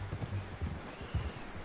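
Horse hooves clip-clopping at a steady walking rhythm in a western-themed video game, soft low thuds close by with faint background ambience and no talk.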